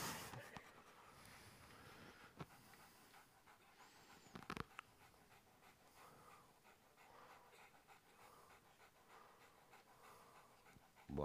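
A dog pants quietly and steadily nearby, with a few soft rustles and no talking.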